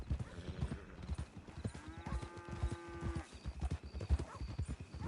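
Horse hooves clip-clop steadily through Red Dead Redemption 2 gameplay, and a horse gives a drawn-out neigh in the middle.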